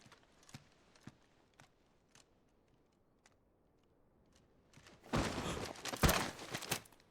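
Horse hooves clip-clop in the Final Fantasy XVI video game, a few faint sparse taps at first, then a louder burst of clattering steps near the end.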